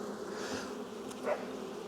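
Honey bees at a beehive colony, a soft steady buzzing drone with a few individual bees passing closer, faint and brief with no talking.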